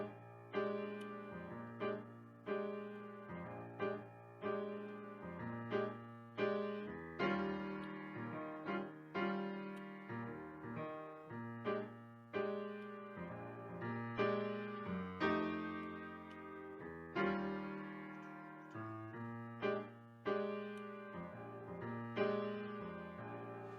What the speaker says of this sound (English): I'm going to play it for you on the piano.